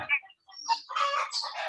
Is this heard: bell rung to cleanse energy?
no